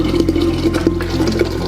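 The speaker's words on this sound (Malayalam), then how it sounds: "വെയിലത്തൊക്കെ വെച്ച് ഉണക്കിയ ഭരണിയിലേക്ക് നമുക്ക് ഒഴിക്കാം." Raisin wine pouring into a sun-dried ceramic bharani jar, a steady, close gurgling stream of liquid with a hollow ringing tone from the jar, no talking.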